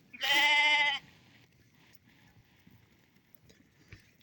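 A single loud sheep bleat, drawn out for under a second, followed by quiet shuffling and faint rustling in the background.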